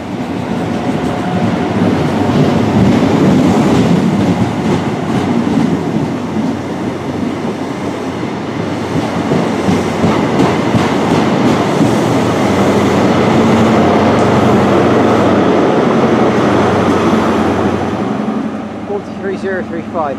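HST passenger train on the Great Western main line passing through Reading station, a loud, close, sustained rumble with rhythmic clatter of wagons over the rails, fading near the end.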